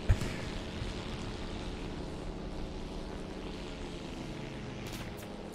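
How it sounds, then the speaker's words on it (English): A Predator drone from the War Thunder video game flies nearby, its propeller engine giving a steady, loud droning hum that holds for several seconds. "That's an enemy drone."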